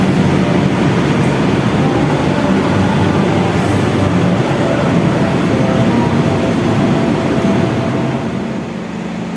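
A Gajah passenger train runs loud and steady at Malang station, a continuous rumble and rolling clatter that holds for the whole stretch and eases slightly near the end.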